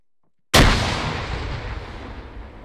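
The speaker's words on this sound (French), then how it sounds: "J'ai entendu une grenade lancée." A grenade explodes in a competitive capture-the-flag video game match, one sudden loud booming blast after a brief silence, decaying into a long rumbling tail.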